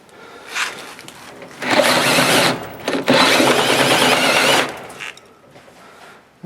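A power drill whirs in two sustained bursts, grinding loudly for a few seconds each into a metal truck door, with brief quieter pauses and short taps before and after.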